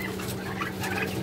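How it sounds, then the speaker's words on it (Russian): Month-old Big 6 turkey poults call together in a busy cluster of thin, high peeping and chirping, close and continuous over a faint low background hum. "Мои первые индюшата."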